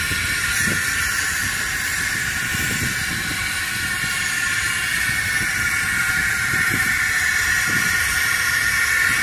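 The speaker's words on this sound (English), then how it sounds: "Those are carbon dioxide cars. They got a valve to equalize the pressure." Carbon dioxide tanker rail cars vent gas through a pressure-equalizing valve, giving a steady, loud, unbroken hiss that runs the whole time, with a few faint knocks underneath.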